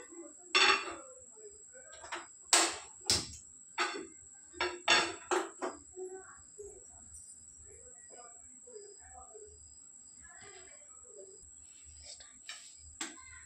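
Metal lid set down on a cooking pan in a home kitchen, a series of close, sharp clinks and clatters of cookware, with a steady high-pitched hum throughout and quiet speech in between.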